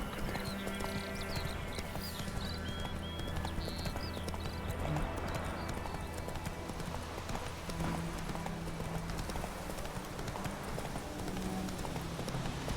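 Horse hooves trotting steadily in the video game Witcher 3, a continuous loud clip-clop with occasional whinnies over game ambience, no talk.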